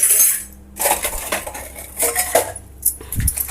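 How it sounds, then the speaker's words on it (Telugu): Steel spoons being put away in a home kitchen during night-time cleaning, a series of close metallic clinks and rattles in uneven bursts, loud and bright, with no talking. "స్పూన్ ఇలా బోర్డు ఇచ్చి పెట్టేసుకోవాలి"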